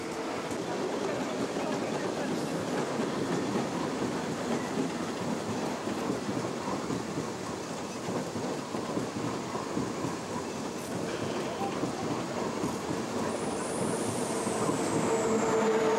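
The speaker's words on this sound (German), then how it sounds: "Der ICE fährt zum Bahnhof Berlin Zoologischer Garten." An ICE high-speed train rumbles past steadily toward Berlin Zoologischer Garten station, with rolling wheel noise and a faint squeal near the end, loud and continuous throughout.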